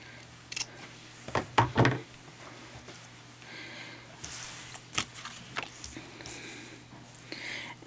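Ribbon from a spool being measured and snipped for shabby chic gift tags, heard as close rustling and handling followed by a few quick, crisp scissor cuts, then softer fiddling sounds.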